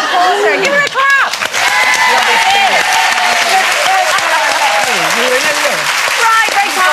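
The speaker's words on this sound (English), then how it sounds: "Gail Porter, give her a clap." Studio audience of a daytime TV talk show applauding for a guest, a dense sustained clapping that stays loud and steady throughout, with a presenter's voice talking over it.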